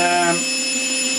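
Short electronic tone from an RC electronic speed controller driving a motor after governor learning, a brief pitched beep dropping into a steady high whine, close and loud, with no talk.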